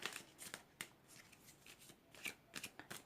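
An angel oracle card deck is shuffled close by, soft quick riffling bursts repeating in an uneven rhythm with no talking.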